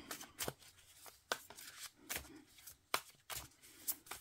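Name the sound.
handling oracle cards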